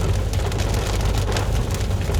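Heavy rain pours steadily on a vehicle during a drive home, a dense, loud, continuous hiss with low road rumble beneath and no voices.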